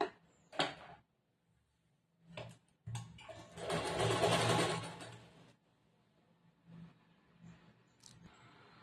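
A sewing machine stitches a blouse lining in short bursts, with a longer steady run in the middle and brief mechanical clicks and knocks between the stitching.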